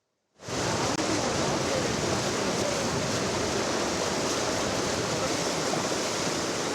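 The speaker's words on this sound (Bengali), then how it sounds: "ফেনীতে ভাঙা বাঁধ দিয়ে মুহুরী নদীর পানি ঢুকছে লোকালয়ে।" Muhuri river floodwater rushing through a broken embankment in Feni, Bangladesh, a sudden steady loud roar of flowing water that holds constant throughout.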